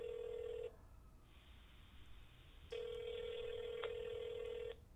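A telephone call ringing out, with two electronic ring tones separated by a short silence and heard as if through the phone line, clear and with no talking.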